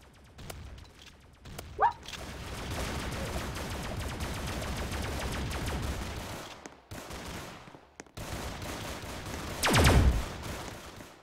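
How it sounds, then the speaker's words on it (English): Shotgun fire in a video game comes as a string of rapid, fairly faint blasts and clattering gunfire, with a sharper loud shot near the end amid other game effects. "Come at me with this shotgun, boy!"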